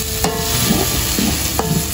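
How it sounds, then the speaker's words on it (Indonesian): Spice paste for kikil, boiled beef skin, sizzles and fries loudly in a pan, a steady close hiss broken by a few scraping stirs from a spatula. "Ini bumbu untuk kikilnya udah mulai ditumis sama Uti."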